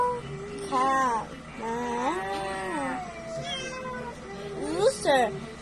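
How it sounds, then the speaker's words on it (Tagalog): A cat gives three or four distinct meows, one long and drawn out in the middle, heard close and fairly clear with no talk over it. "Cat. Meow. Cat."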